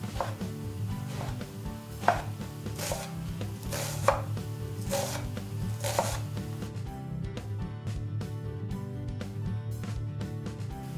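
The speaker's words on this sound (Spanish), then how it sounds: "Hemos picado la berenjena sin la piel y la cebolla morada" Knife chopping peeled eggplant and red onion on a board, a series of sharp, close cuts at an irregular pace, then a quick rapid run of finer chops toward the end, with no talking.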